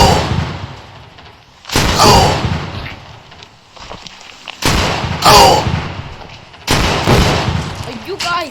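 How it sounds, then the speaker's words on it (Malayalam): AK rifle gunfire in a video game, coming as three loud, sharp bursts separated by quieter stretches where a voice talks. "മറ്റേ AK ബോർഡ് സാധനം ഇടുക. നമുക്ക് എല്ലാത്തിനെ വെടിയിട്ട് കൊല്ലാം."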